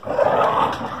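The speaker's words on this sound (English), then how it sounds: "We got two ferocious canines going at it." Two puppies play-fighting up close, giving a brief, loud, continuous rumbling growl with no pauses or spoken words.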